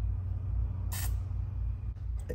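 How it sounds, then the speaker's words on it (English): A short hiss of spray lube hits the rubber plug that goes through the case of a 1972 Harley-Davidson Shovelhead chopper. The single brief burst stands out over a low steady background hum. "I use some spray lube on the rubber plug that has to go through the case."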